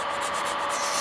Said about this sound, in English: I'll go in and file a little bit more to roughen up that surface